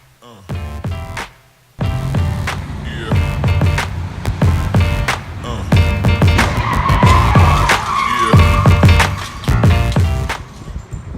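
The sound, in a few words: car crash with skidding tires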